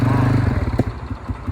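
An ATV engine on a Bali off-road ride, close and loud, roaring steadily before breaking into choppy, uneven throttle pulses with some rattling clatter.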